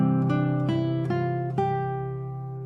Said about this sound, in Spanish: tenemos este pequeño fragmento musical que suena así